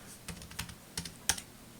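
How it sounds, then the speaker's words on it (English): Typing on a computer keyboard, about six quick soft key clicks in an uneven rhythm, close and quiet, with one sharper keystroke near the end. "let's just type in"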